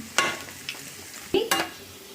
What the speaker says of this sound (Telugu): ఇలా తిప్పుకోవాలండి వేగేటప్పుడు మధ్య మధ్య